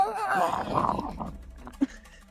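A voice imitates a monster's loud, gurgled howl during a tabletop role-playing game, a throaty, wavering growl that swells and fades over about a second and a half, followed by a brief sharp click.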